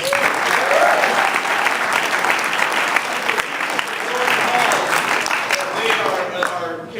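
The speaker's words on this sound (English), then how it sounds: "They deserve another round of applause." A crowd at a political reelection announcement in Arlington applauds the Young Democrats, loud sustained clapping with cheering voices mixed in, continuous until it tapers near the end.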